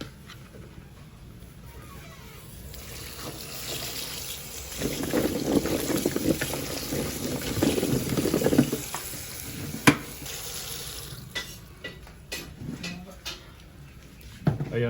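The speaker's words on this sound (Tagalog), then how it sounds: "Ito yung gigisa namin dyan sa malunggay." Malunggay leaves sautéing in a pan, a loud burst of sizzling and frying noise that swells in the middle and then eases, with scraping and clatter toward the end.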